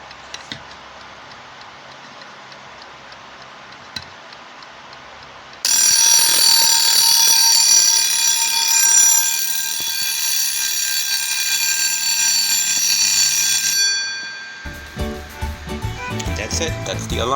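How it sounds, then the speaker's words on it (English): A bird box mechanical alarm clock's loud, continuous metallic bell rings for several seconds, then stops abruptly, giving way to clattering and shuffling noises. "That's it, that's the alarm."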